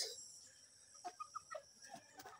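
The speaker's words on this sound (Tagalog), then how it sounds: "Daming manok dito guys" Faint clucking from a group of chickens, a few soft short calls in a brief cluster, heard at a distance against a quiet background.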